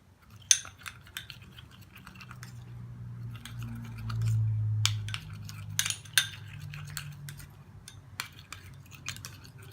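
Papaya paste and other ingredients mixed in a bowl: a metal spoon clinks and scrapes against the bowl in scattered sharp taps, close and fairly quiet, with a low hum underneath and no talking.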